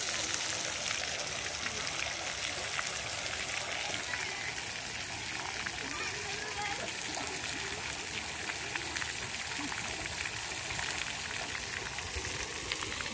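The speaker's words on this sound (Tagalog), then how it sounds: "Yung waterfalls natin. Halitin kong buksan." Small waterfall feature with water flowing, a steady bright splashing and trickling rush that holds evenly throughout with no voices.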